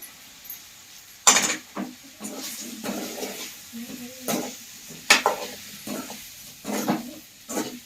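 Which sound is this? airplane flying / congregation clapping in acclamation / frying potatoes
frying potatoes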